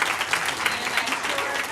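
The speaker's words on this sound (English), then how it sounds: "So we just want to give our panelists a round of applause." Audience applause for panelists at an EdTech meetup, a steady patter of many hands clapping close by, brief and even throughout.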